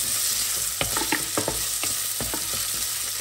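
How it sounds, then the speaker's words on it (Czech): Bacon melts and fries in a pan, a close, steady sizzle broken by quick spattering crackles and a few stirring clicks, with no speech. "Teď tam přidám slaninu, nechám ji rozpustit,"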